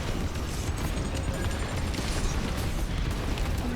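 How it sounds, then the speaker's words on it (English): A-wing barrage rockets fire in Star Wars Squadrons, loosing a dense, continuous rumble of launches and bursts, loud and close throughout with no pauses and no talk. "Then you get in here with your barrage rockets"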